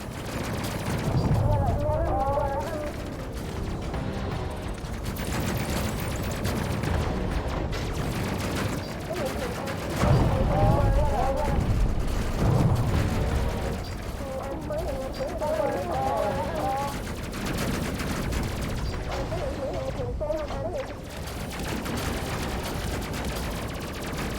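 Weapons firing in the space game Space Crew, a continuous dense barrage of booming, rumbling shots and explosions that lasts throughout, with someone talking over it at times.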